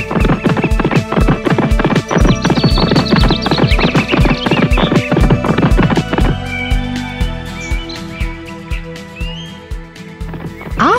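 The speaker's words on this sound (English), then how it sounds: "And so the horse started running." A horse runs with steady, rapid clip-clopping hooves, loud and close, the rhythm shifting midway to a slower gait, with faint bird chirps in the background.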